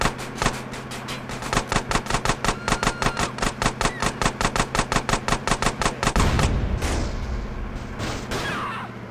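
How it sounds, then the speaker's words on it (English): Rapid machine pistol fire in GTA San Andreas, a fast regular string of sharp close shots for about six seconds, then a heavy booming burst and rumble as the firing thins out. "Machine pistol."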